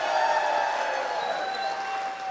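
Audience at the Siwana Utsav poetry gathering applauding, a steady moderate clapping with a faint murmur of the crowd, continuing throughout without speech.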